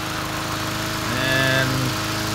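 A home-built remote control lawn mower trims along bushes and a sidewalk, its small engine droning steadily and close, with the pitch rising briefly in the middle.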